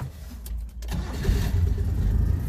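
A car engine with the choke pulled on cranks briefly and then fires up, settling into a loud, close, rough idle that rumbles steadily, with no talking.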